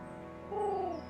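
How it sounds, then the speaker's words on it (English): A single soft pigeon coo from the Fire Emblem Engage video game, a short low gliding call rising briefly over a faint steady background hum. "I could easily mimic that because it's a person making a pigeon noise"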